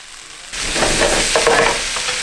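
Vegetables sizzle and fry in a pan as they are stirred while a peanut satay sauce cooks, a steady close hiss beginning abruptly and holding loud throughout.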